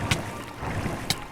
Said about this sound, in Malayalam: ബോട്ട് എടുക്കാം.